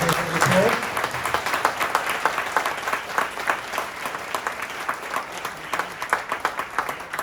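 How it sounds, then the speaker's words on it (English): Audience applause at the close of an academic keynote, a dense patter of clapping that gradually thins out, with some voices murmuring underneath. "Okay, everybody, if you want to give a applause."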